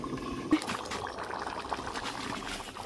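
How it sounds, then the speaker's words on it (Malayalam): Water is added to a tea cup on the stove while biryani cooks, giving a brief, faint pour and soft liquid trickling with light bubbling. "നമ്മൾ ടീ കപ്പിൽ കുറച്ചും കൂടി വെള്ളം വെച്ചിക്കണം."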